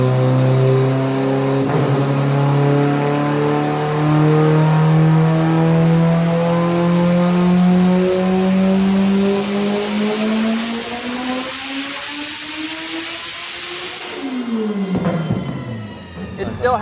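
Turbocharged AWD Honda Integra with VTEC, making about 1,700 bhp on 80 psi of boost, revs up in a long, loud rising engine pull, then drops off sharply with crackles near the end.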